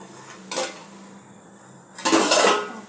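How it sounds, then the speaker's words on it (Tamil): A metal lid lifted from a pot of sambar cooking with drumsticks, heard as two close clanks of metal on metal about a second and a half apart against a quiet kitchen background. "மூடி ஓப்பன் பண்ணி பார்க்கலாம்"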